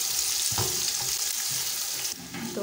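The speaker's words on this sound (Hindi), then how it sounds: "तो प्याज को जो है हम गोल्डन कलर आने तक पका लेंगे।" Onions frying in a pan with garlic and black cardamom for chana pulao, a constant close hiss of sizzling oil with clinks and scrapes of stirring, easing slightly near the end.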